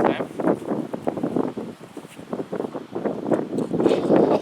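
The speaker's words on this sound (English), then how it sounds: "It's pretty windy" Wind blowing outdoors during a 12-gauge shotgun shell test, gusting steadily and rushing against the microphone in uneven, rumbling bursts.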